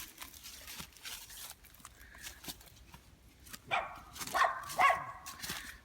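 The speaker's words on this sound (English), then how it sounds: "I got some barking dogs out there if anybody wants any of them." Several dogs barking outside, heard at a distance, with scattered barks and yips that grow louder and more insistent toward the end.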